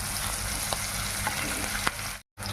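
Curry leaves and bitter gourd pieces fry in hot oil in a pan, giving a dense continuous sizzle with a few faint stirring clicks, close up and without talk.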